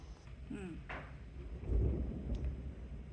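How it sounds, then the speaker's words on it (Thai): Deep rumbling thunder rolls in the distance during a windy storm in America, swelling midway, with steady wind and rain noise throughout and a brief voice early on. "ได้ยินเสียงฟ้าร้อง"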